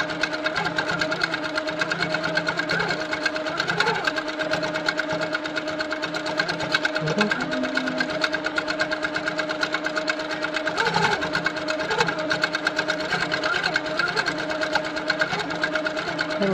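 Sitdown longarm quilting machine stitching to fill in a quilt, a steady fast mechanical whir and buzz running throughout with small shifts in speed, while a person talks over it.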